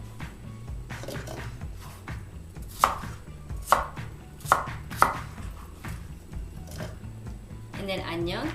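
Knife chopping pear into small bite-size pieces for Korean kimchi, a series of sharp cuts, several louder impacts in the middle, with low kitchen background noise and a brief clatter at the end.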